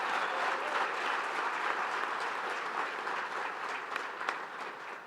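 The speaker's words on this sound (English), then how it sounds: "So a big round of applause to all the partners who helped make Long Island Strides the #1 breast" An audience at the Long Island kickoff event for the Making Strides Against Breast Cancer walk applauds the walk partners with steady, full clapping that tapers slightly toward the end.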